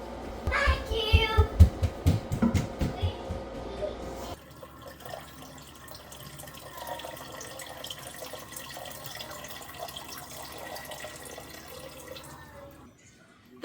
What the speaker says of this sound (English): I'm going to let my water run through here.